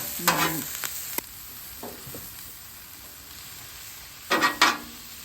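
Vegetables sizzle and are stirred on a Blackstone flat-top griddle at about 300 to 325 degrees, with scraping spatula strokes near the start and again near the end over a faint steady sizzle.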